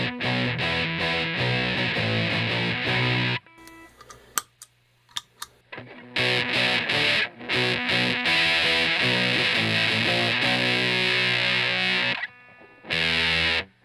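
Electric guitar played through a Fuzz Rite fuzz pedal set with the low end missing, giving a thin, loud, buzzy distorted tone. Sustained chords and riffs run for several seconds, break off into a short sparse pause, then resume to the end.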